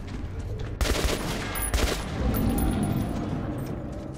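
Gunfire from the player's weapon in Metro 2033 Redux, a few loud bursts of shots around the one- and two-second marks over a dense, noisy game background.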